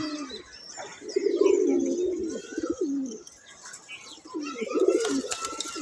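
Close male pigeons coo in two rolling bursts outside their loft, soft warbling calls separated by a short lull, with faint chirps in the background.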